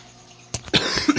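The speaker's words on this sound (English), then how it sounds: "It's really hard to film with coughing this much." One person coughs several times in quick, harsh bursts close to the microphone in a quiet room with reptile, amphibian and fish tanks.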